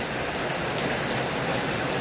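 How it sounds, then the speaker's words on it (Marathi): Heavy monsoon rain in Kerala pours down in a dense, steady roar of drops striking surfaces, loud and unbroken throughout, with no voices. "हे बघा किती जोराचा पाऊस पडतो"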